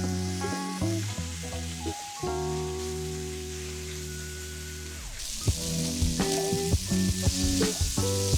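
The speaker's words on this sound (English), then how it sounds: "My meat has been stir frying." Meat stir frying in 100% sesame oil for a rice stick stir fry, a steady close sizzle running throughout with scraping and stirring clatter, getting busier and louder in the second half.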